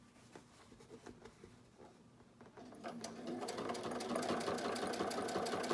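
A home sewing machine stitching a DIY fabric face mask, starting with a few slow, faint stitches and then building into a steady, fast, rhythmic whir that grows louder and runs continuously to the end.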